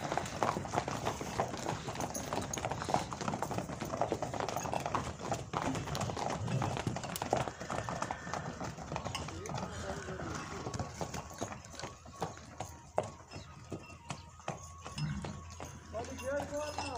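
Mares and horses returning after a ride, hooves clip-clopping steadily on the ground throughout, fairly close, with voices and background commotion mixed in.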